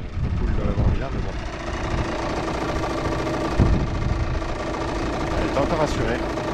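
A Yamaha TDR 125 motorcycle engine idles steadily while warming up, a continuous close, rough, rattly two-stroke putter with small irregular knocks throughout.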